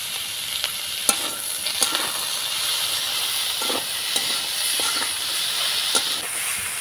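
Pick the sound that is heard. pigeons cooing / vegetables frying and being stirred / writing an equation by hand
vegetables frying and being stirred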